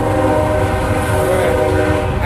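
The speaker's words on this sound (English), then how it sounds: "We got a train coming." A passing train blares its horn, a loud sustained chord over rumbling wheels and steady clatter, continuous and close throughout.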